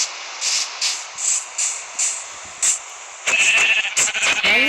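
In Minecraft, a series of short, high, synthetic sheep bleats repeats in a steady rhythm, then a louder cluster of overlapping tones and chirps follows.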